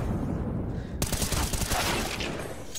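Counter-Strike gunfire during a professional Imperial versus Vitality esports match: a rapid burst of automatic shots starts abruptly and rattles on for about two seconds, loud and close, under a steady game background.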